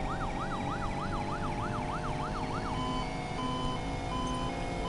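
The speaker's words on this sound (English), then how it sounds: "now there's different sirens when the lights turn on" In the game Need for Speed Payback, a wailing police siren sweeps up and down in a steady, rapid rhythm over a low engine hum, then shifts to a steadier tone.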